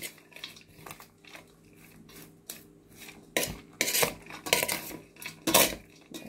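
A utensil scrapes and clinks against a bowl while boiled fish kerabu salad is mixed, with soft rubbing at first and then several louder, irregular clatters.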